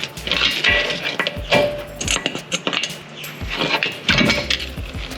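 A pry bar levers a CV axle shaft out of a 2008-2014 Subaru WRX/STI, several close, sharp metallic clanks and knocks with short scraping rattles in between, in irregular bursts.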